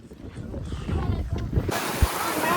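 Rushing wind at Amboli buffets the microphone in a steady, fairly loud roar, growing broader and harsher partway through, with a brief low thump near the end.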